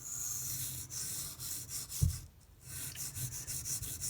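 A Kershaw Launch 11 knife with an off-center factory grind is drawn repeatedly across a sharpening stone in steady rhythmic rasping strokes, close and moderately loud, with one brief knock and a short pause midway.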